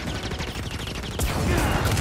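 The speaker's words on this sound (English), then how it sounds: "So that fires the cannon." Heavy rapid cannon fire in the video game Star Wars Jedi: Fallen Order, a rattling barrage that grows louder and denser after a moment, loud and close.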